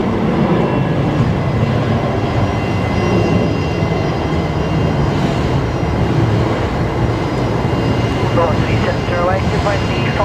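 A departing Qantas jet at Brisbane Airport gives a loud, steady, broadband engine roar that fills the scene, with voices talking faintly underneath.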